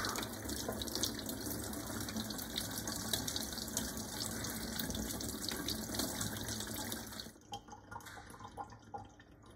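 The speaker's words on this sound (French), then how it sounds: "je vais aller le rincer à l'eau" Salted duck breast is rinsed under a running kitchen tap, giving a steady, close rush of water that splashes over the meat for about seven seconds, then breaks into uneven trickles and drips.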